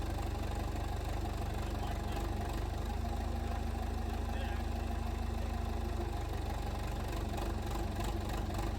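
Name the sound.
backhoe engine lifting a steam locomotive boiler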